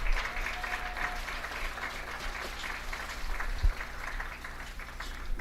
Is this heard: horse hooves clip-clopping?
no